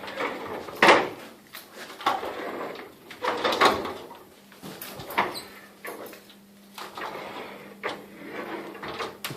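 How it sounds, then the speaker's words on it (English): Closet doors in a house being opened and closed repeatedly, giving a series of sliding rumbles and clacks at irregular intervals, fairly close, with a faint steady hum underneath. "All closet doors work freely."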